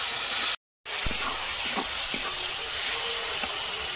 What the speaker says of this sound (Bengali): ধনে গুঁড়ো দিয়ে দিচ্ছি, মশলা বসে যাচ্ছে, একটু জল দিয়ে দিলাম।